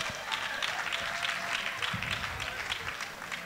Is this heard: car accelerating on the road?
no